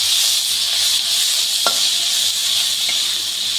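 Grated onion and potatoes frying in a pan for a rohu fish curry, a steady loud sizzle with no pause and a couple of faint clicks of utensil on pan.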